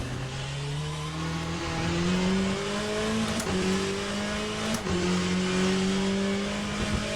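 A Chevrolet Corvette C8 race car in a sim racing game, its engine note climbing and dropping through gear changes as it brakes hard, with brief clicks of downshifts and faint tyre scrub, loud and continuous with no talk.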